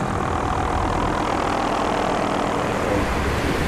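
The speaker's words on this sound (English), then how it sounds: "Multiple tour companies take advantage of the show, charting helicopter tours above the volcano." A tour helicopter flies over an erupting Hawaii volcano, its steady engine and rotor drone loud and continuous throughout, with no other sounds standing out.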